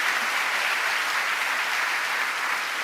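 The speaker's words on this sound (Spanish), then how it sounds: "Vamos a dar un fuerte aplauso al Señor" A church congregation applauds for the Lord, a dense, steady wash of clapping hands that fills the room without pause.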